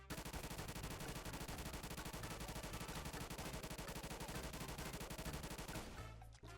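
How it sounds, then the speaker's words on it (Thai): Rapid automatic fire from the XSHOT gun in a shooting video game, sprayed uncontrolled at a wall, a dense unbroken stream of loud shots that stops abruptly near the end. "ยิงใส่กำแพงครับแบบไม่คุมปืน"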